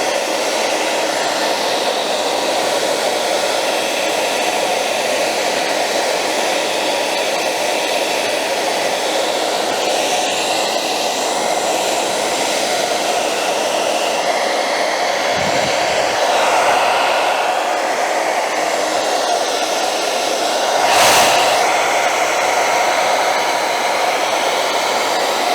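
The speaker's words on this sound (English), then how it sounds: "It's going to be really hot though because of this blow dryer." A blow dryer runs steadily and loudly at close range while heating sneaker sole protectors on Yeezy 350 V2 "Ash Pearl" shoes, a constant airy roar with a couple of brief handling knocks.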